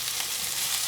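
Potatoes, onion and peppers fry in oil in a pan, a steady, bright, close sizzle with faint stirring underneath, no voices.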